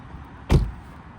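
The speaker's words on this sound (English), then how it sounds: "let's close the driver's door" The driver's door of a Ford 100e car is shut, a single solid thud close by, alone against quiet background.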